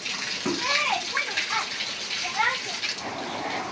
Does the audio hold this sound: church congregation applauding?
no